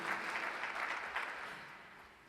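A church congregation applauds during a Spanish-language sermon. The clapping is soft and distant, a smooth wash that gradually fades away.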